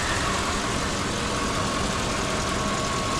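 A 2002 Mercedes-Benz SL500 Silver Arrow with low miles idles steadily, giving a constant, even engine hum with no revving or speech over it.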